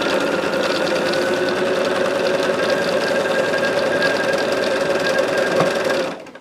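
A sewing machine runs steadily, stitching quilt pieces for a tree of life mystery quilt, with a continuous loud whirring motor hum that holds even for about six seconds before stopping abruptly.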